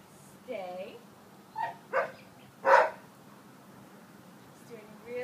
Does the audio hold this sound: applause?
no